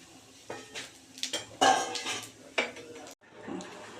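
Crab, potato and cabbage curry stirred in a pan with cumin and bay leaf tempering, giving a run of close metal scrapes and clinks of a utensil against the pan in short bursts, with a brief pause near the end.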